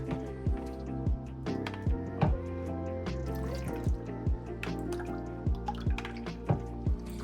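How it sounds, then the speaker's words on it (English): Thick liquid gelatin pours over fruit in a steady stream, with regular gloopy plops and drips, close by and moderately loud. "You're gonna pour your gelatin on top."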